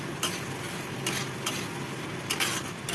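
Spices crackle gently as they fry in a home kitchen pan, a steady soft sizzle broken by a few sharp stirring scrapes, close and moderately quiet, with no talking.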